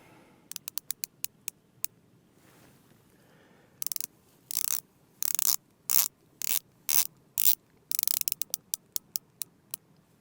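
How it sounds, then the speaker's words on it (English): Rotating bezel of a Blancpain Fifty Fathoms dive watch, ref 5015, ratcheting close up: first a series of single crisp clicks, then rapid bursts of clicking as it is turned in quick sweeps, with no voices. "That's a very nice action on that bezel."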